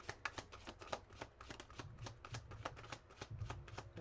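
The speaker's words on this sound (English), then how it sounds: "This is the final shuffle on the nose." Cards are shuffled close up in quick riffling bursts, a rapid series of crisp flutters and taps repeating over a few seconds.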